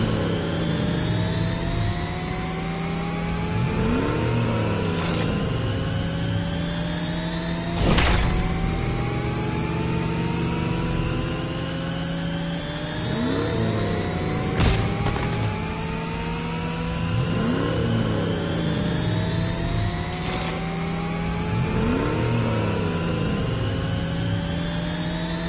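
Johnson's car engine in the Mobile Legends video game, revving continuously with rising whines that repeatedly climb in pitch. Sharp swooshes cut in every few seconds, and a steady low drone runs underneath, loud and close.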